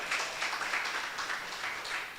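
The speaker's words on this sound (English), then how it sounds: "And yeah, that's right, clap for that" Steady audience applause filling a room at a spoken word celebration of neighborhood health, a continuous wash of many hands clapping at moderate volume.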